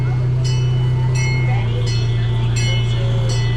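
Amusement park train ride, the Holidog Express at Holiday World, rolls along with a steady low rumble and hum, while periodic clinks and squeaks from the cars recur about every second, loud and close throughout.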